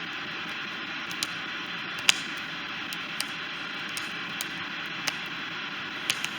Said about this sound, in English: the Banshee box, the noise you can hear.